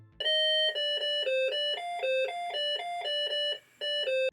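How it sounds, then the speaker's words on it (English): Harsh looping beeps from a PC speaker in a Wheel of Fortune computer game, a rapid repeating pattern of pure electronic tones, loud and alone, with a brief pause near the end. "a Wheel of Fortune game much like the other one I mentioned, but it has hideous PC speaker sounds that play on a loop"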